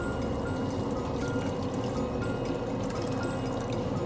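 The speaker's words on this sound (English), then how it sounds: "we will open the water and we'll put inside the heater." Water pouring steadily into an electric heater pot, a continuous gurgling splash lasting the whole time, close by and fairly quiet.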